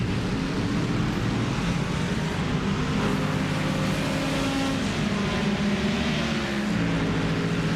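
GT3 race cars in a sim racing endurance event at Texas, running down the back straight into a headwind; a dense, steady engine roar holds without a break for the whole stretch.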